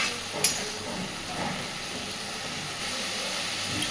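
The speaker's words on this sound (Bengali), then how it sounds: "পুরোপুরি মশলা থেকে তেল ছাড়া পর্যন্ত সুন্দর করে কষাতে থাকবে।" Spice masala for a pointed gourd kofta curry fries steadily in a pan with a continuous close hiss and sizzle, a few faint pops on top, no voices.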